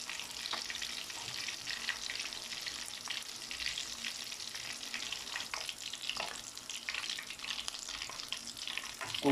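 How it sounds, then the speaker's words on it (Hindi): Mutton koftas fry in hot oil, a steady bright hiss and crackle with occasional stirring clinks, fairly close and alone. "ये भी कोफ्ते हमने फ्राई कर लिए हैं"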